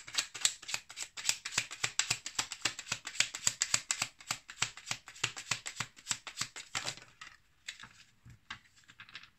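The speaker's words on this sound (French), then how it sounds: "Allez, on va prendre une autre carte." Tarot cards being shuffled and drawn: a fast, close run of papery riffling flicks for about seven seconds, then a few slower, softer card slides and taps.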